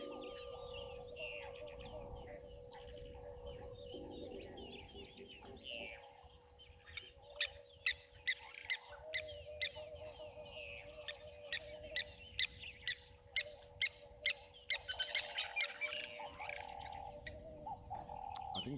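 A fish eagle calls at a waterhole amid a bed of chirping birds and insects, its sharp repeated cries ringing out in a rhythmic burst toward the end, with faint voices in the background.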